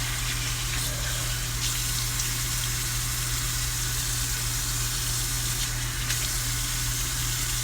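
Steady running water from a tap into a sink while a skin polish exfoliating mask is rinsed off the face, a constant close hiss with no pauses and no talking.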